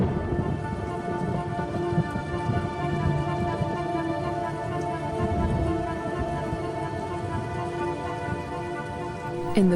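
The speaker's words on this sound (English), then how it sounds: "the rains continue to fall in a ceaseless torrent" Heavy rain falls in a ceaseless torrent over the African wilderness, a dense, continuous roar that stays loud and steady throughout, with a low hum running beneath it.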